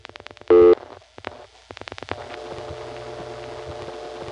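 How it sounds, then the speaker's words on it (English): Dial tone from a panel telephone switching system resetting its sender, a short steady tone early on, then a series of dialing clicks and a second, lower dial tone humming steadily to the end. "you hear that second dial tone in the background?"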